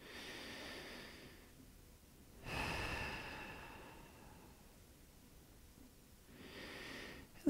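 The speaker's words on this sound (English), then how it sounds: "Take a couple more full breaths here." Deep, full breaths during a yoga session: a soft, long inhale or exhale early on, a louder, forceful breath through the nose around the middle, and another quieter breath near the end, all close and slow with hushed room tone between.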